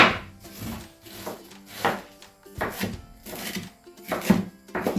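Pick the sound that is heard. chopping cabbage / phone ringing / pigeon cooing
chopping cabbage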